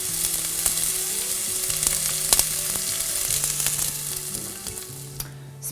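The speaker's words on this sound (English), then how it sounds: "Onion in a pan with butter and oil for like 5 minutes." Chopped onion fries in a pan with butter and oil, a continuous crackling sizzle with dense spitting pops and occasional scraping from stirring, close and steady before easing slightly at the end.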